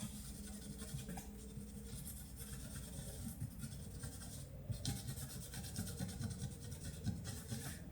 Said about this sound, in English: let's clean up each spot with the alcohol